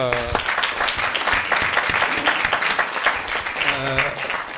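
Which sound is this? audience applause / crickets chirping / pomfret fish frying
audience applause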